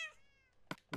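A Minecraft cat gives one clear meow with a falling harmonic tone, followed by two short bright clicks or pops. There is no speech.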